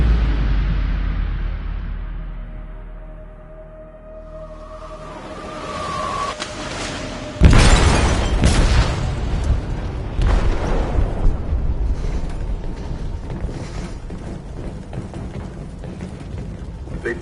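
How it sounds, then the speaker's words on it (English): An explosive detonates in a ship's hold in the video game Detroit: a sudden loud, close blast around the middle, followed by a long rumbling roar and crashing debris that carry on to the end, after a quieter lead-in with a rising tone. "They detonated an explosive in the hold."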